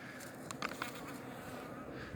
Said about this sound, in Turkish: Bir avuç arı.